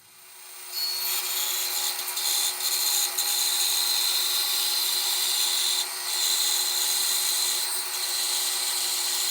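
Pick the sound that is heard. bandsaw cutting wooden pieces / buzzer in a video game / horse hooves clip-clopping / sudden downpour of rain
bandsaw cutting wooden pieces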